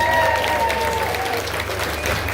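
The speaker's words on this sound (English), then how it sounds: "A special round of applause for our slideshow developer and music producer" Applause ripples through a crowd of mourners at a wake, honoring a family member's slideshow and music, with steady sustained clapping throughout and some voices mixed in.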